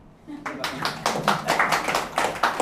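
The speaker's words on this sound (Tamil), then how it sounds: "இதுக்கு ஏதாவது ஒரு கைதட்டு தட்டுவீங்களா" Scattered applause from an audience, a burst of hand claps starting after a brief pause and continuing steadily, with a voice faintly underneath.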